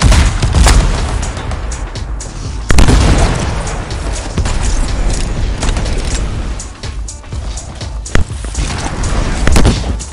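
Missile and bomb explosions in the video game Anthem, loud repeated booms and bursts piling on top of each other in a dense continuous barrage, with sharp blasts standing out every few seconds.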